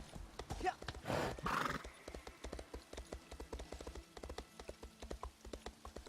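Steady clip-clop of horse hooves at a trotting rhythm in the video game Elder Scrolls Online, with a brief whinny near the start and faint background ambience.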